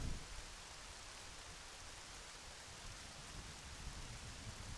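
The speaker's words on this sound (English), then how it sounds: "nice rain sounds outside" Rain falls outside during a cutscene in The Legend of Zelda: Majora's Mask, a soft, even hiss of drops that stays faint and constant.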